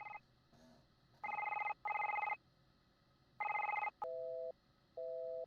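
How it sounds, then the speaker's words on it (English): Outgoing phone call ringing in the video game The Lonely Assassins: repeated electronic ring bursts in pairs, clear and alone, followed by lower two-tone beeps of a busy signal. "Let's try calling Lawrence again."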